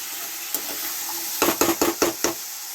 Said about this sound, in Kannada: ಈ ಕುಂಬಳಕಾಯಿ ಚೆನ್ನಾಗಿ ಫ್ರೈ ಆಗಬೇಕು